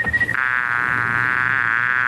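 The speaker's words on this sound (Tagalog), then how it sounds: "Anong langaw yan?" A housefly buzzes steadily and close by, a continuous whining drone that starts just after a brief rustle and carries on to the end, with no talk over it.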